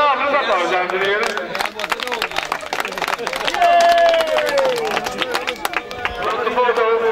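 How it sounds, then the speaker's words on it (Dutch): Audience clapping loudly at an outdoor village contest of bowsprit walking and jeans hanging in Genemuiden, dense sharp claps mixed with crowd chatter and cheering voices across the whole stretch. "En geef ze nog een tafel applaus, dames en heren."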